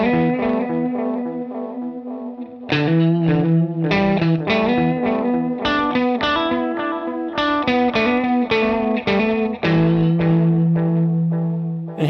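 Electric guitar played through a Recovery Effects Moonstruck analog delay set to its longest delay of roughly 550 ms, dry with no reverb: a phrase of sustained, slightly distorted notes with repeats trailing each one, loud and steady throughout.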